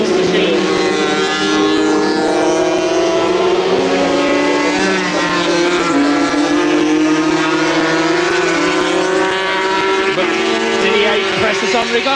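A racing powerboat engine in the 1984 Transatlantic Challenge, Didier Derodines' machine running with a loose, flapping tailpipe, gives a loud, steady, throbbing drone throughout while a commentator talks over it.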